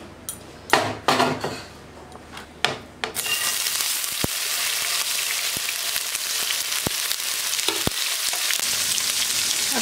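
Paneer cubes fried in oil in a pan, opening with several sharp clinks and clatters, then a loud continuous sizzle that carries on steadily, punctuated by occasional utensil taps.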